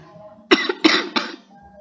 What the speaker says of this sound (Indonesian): ngapa aku batuk-batuk nih